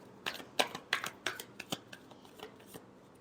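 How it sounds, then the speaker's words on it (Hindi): Tarot cards are shuffled close by, giving a quick run of light, crisp riffling snaps and flicks in a loose rhythm, fairly faint. "last shuffle"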